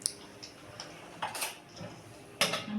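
A spoon clinks against a dish several times in quick, light taps, with a couple of brighter strikes standing out near the end, all fairly close and with no talking.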